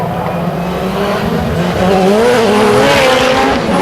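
Loud rallycross race cars of about 600 horsepower on slick tyres roaring and revving as they accelerate at Brands Hatch, the pitch climbing with gear changes, with tire noise mixed in, close and intense.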